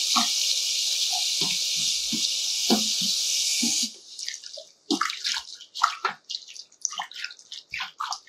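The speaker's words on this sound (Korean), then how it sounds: "젓가락으로 계속 돌려서 이런 식으로 계속 돌려서 씻어 주셔야 됩니다." Shredded radish being rinsed in a bowl of water and stirred with chopsticks: a steady watery rush for several seconds, then splashy, irregular sloshes and drips close by, with no talking.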